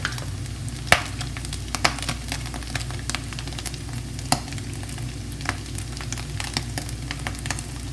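Eggplant being stirred with black pepper in a hot pan for a healthy eggplant tapsi, giving a steady sizzle broken by repeated sharp scrapes and clicks of the utensil at an irregular pace, close by and with no talk.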